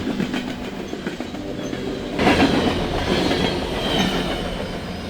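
A CSX coal train rolls past on the Rochester subdivision, a loud, steady rumble of wagons with rhythmic clickety-clack of wheels on rail joints, swelling as more cars pass close by, with no voices.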